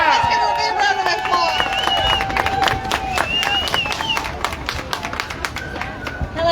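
A crowd at an outdoor freedom march protest in Seattle cheers and claps for a speaker, with whistles and shouts rising over steady applause throughout.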